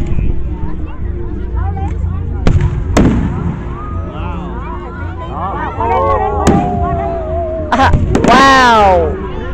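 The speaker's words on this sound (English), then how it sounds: "Yeah, I mean they're fireworks." Fireworks bursting at a 4th of July show in Cape Carteret, North Carolina: loud sharp booms and crackles at irregular intervals, with whistling rising shells and an excited crowd cheering and talking throughout.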